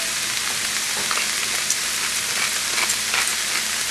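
Garlic sizzles in a hot pan with sautéing onions, a steady, close frying hiss with light crackles and pops and no voice over it.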